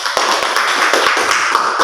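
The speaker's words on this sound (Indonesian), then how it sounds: "Tepuk tangan buat kelompok 1" A classroom of students claps for group 1, a quick, close burst of brisk, fairly even hand claps rattling along without pause.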